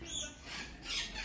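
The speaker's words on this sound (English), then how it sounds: "The birds are loud." Small birds in a garden squawking, two short bursts of high, scratchy calls close by, with a quiet pause between them and no talking.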